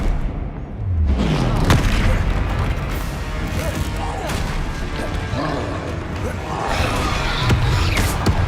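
A Confringo blast spell fired in Hogwarts Legacy during a fast duel, giving loud booming impacts and crashing hits in dense succession. Game music and other spell effects fill the mix, and a voice calls out spell names.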